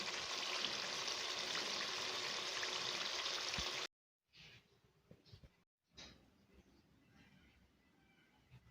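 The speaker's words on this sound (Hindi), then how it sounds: "इसमें मैं थोड़ा हल्का सा पानी शामिल करूँगी, लाइट सा पानी हाफ़ गिलास" Half a glass of water is poured into a pan of frying liver (kaleji) masala, giving a steady, loud rushing hiss for about four seconds, then quieter scattered clinks and sizzling after a short gap.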